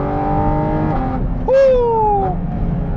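A 2022 Porsche Cayman GT4 RS with PDK transmission revs up hard, then drops sharply into a rising snarl as it pulls away, a loud, close burst over steady engine hum.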